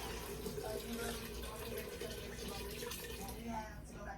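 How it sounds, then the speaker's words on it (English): Chicken broth pours into a pot of turnip and collard greens cooked with smoked neck bone, a steady trickling splash that runs continuously for about four seconds. "what I'm going to do is put a little chicken broth in here"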